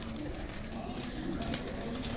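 Red-eyed pet pigeons coo in a low, steady murmur that runs through the whole stretch, with a faint background hiss and no talk over it.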